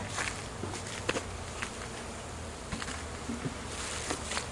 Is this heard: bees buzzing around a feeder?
yes